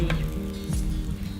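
Butter sizzles on pancakes in a hot pan, a steady close frying hiss with a couple of brief sharp crackles and no voices.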